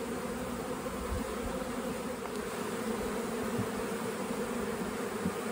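Honey bees fly around their hive after snow melt, a dense continuous buzzing hum with occasional individual bees passing close, fairly quiet and without speech.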